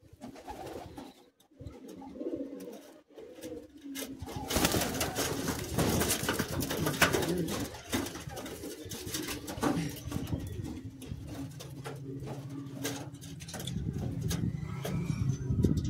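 Old high-flying Madrasi pigeons at a Kolkata pigeon sale give off low, overlapping coos amid a busy, steady background clatter, with no voices.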